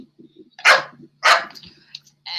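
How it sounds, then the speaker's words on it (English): A pet dog barks loudly and close by indoors, two sharp, full barks about half a second apart, then a higher whining yelp, with soft thumps and a low hum underneath. "That could be my dog."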